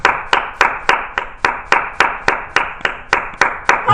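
Rhythmic unison clapping from a church congregation, about fourteen sharp, evenly spaced claps close by, with no talk over it.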